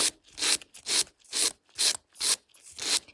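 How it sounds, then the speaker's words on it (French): A nail file rasps back and forth over a gel nail extension, six or seven quick, close strokes in a steady rhythm, each a bright scratchy swish separated by short pauses. "on va bien limer l'ongle"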